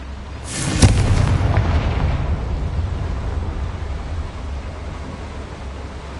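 A Confringo spell in Hogwarts Legacy bursts with one loud, deep boom near the start, followed by a long rumbling, hissing wash that slowly fades.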